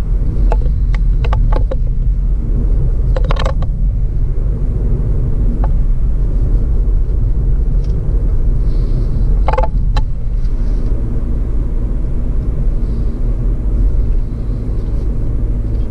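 A 2018 Hyundai Ioniq Hybrid cruising on the motorway, heard from inside as a loud, steady low rumble of road and wind noise, broken by a few brief clicks and knocks.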